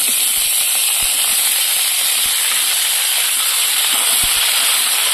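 Pumpkin flower stalks, eggplant and potato tipped into a frying pan of fried onion and garlic, giving a steady loud sizzle and hiss throughout, broken by a few soft knocks.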